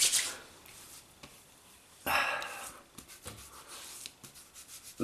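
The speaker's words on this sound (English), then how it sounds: "Rub it together" Arko Extra Sensitive Moisturising Balm is rubbed between the palms. The moist smearing and squishing comes close and fairly quiet, in several short strokes, with a louder burst partway through.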